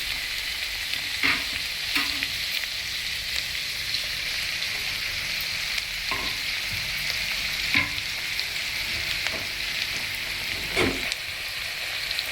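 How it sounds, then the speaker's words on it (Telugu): Pre-cut tomatoes go into hot oil for a traditional Andhra brinjal curry, giving a constant bright sizzle. Occasional soft knocks of stirring rise above it, and no one speaks. "ఇప్పుడు ముందుగా కట్ చేసి ఉంచుకున్న టమాటా వేస్తున్నానండి."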